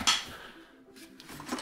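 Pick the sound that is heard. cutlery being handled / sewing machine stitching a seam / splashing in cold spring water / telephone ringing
cutlery being handled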